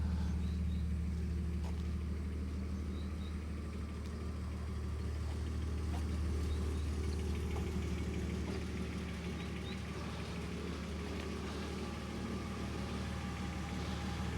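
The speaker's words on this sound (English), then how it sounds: "There's a weird humming coming from the engine bay." A BMW E46 car engine idles steadily nearby, a low continuous hum and rumble with faint ticking and knocking running through it, with a persistent odd humming from the engine bay, no voices.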